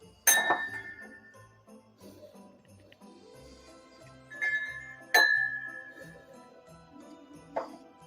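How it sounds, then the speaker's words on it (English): Whiskey swirled in a tasting glass during a live advent-calendar tasting, giving a few clear glassy clinks and rings spaced several seconds apart over a quiet room, with no talking. "We're going to go ahead and coat this glass even further"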